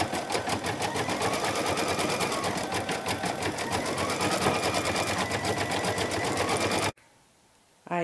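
An embroidery machine stitches pink flowers onto a quilt block, its needle pounding in a steady, rapid, loud rhythm for about seven seconds before stopping abruptly into near-quiet.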